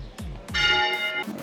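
Church bells in Seville, Spain, give two short clangs and then one longer ringing strike that hums and fades over about a second, heard fairly close with no talking.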